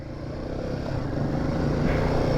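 A Royal Enfield Himalayan 450 adventure motorcycle is ridden, its engine droning steadily and growing slightly louder under rumbling wind, with no voices.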